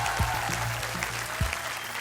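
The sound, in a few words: studio audience applause on a game show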